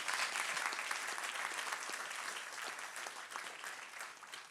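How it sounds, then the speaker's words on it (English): An audience applauds Minister Jessie Sunner at a BC talent development event, with dense, sustained clapping from a crowd filling the room that fades slightly toward the end. "can I get a round of applause for Minister Sunner?"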